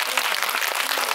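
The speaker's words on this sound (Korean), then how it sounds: "큰 박수 부탁드립니다" Dense, steady applause from the audience at a Korean film screening and talk event, filling the whole short stretch at an even loudness with no voices standing out.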